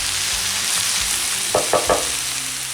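Mushrooms and onions cook in a frying pan as a steady, close sizzle, with a few quick spatula scrapes and knocks from stirring breaking through the hiss.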